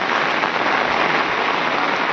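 Rain falls on paddy fields in the Konkan countryside, a steady, even wash of dense patter with no voices.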